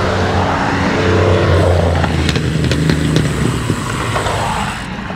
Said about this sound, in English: With the loud cars.